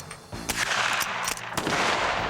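A Navy Arms reproduction Henry lever-action rifle fires several sharp shots at an outdoor Old West shooting event, spaced about half a second to a second apart over continuous crowd and range noise.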